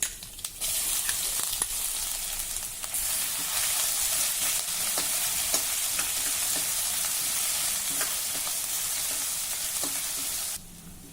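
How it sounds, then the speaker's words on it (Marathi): Mustard seeds, cumin and crushed garlic sizzle in hot oil, a steady close frying hiss with scattered pops and spatters, briefly quieter at the start and cutting off near the end. "आलं लसूण हलक्या तांबूस रंगावर परतून झालं।"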